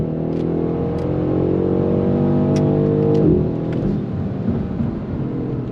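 A BMW M850i with xDrive all-wheel drive accelerates on throttle, its engine note rising steadily in pitch and loudness for about three seconds before it eases off, heard close.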